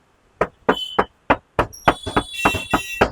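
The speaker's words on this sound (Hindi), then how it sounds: "ये एक लोहा बज रहा है।" Bare, undamped car body panel knocked by hand: about a dozen sharp raps in an uneven rhythm, each ringing briefly with a bright metallic tone, close and loud with no talking.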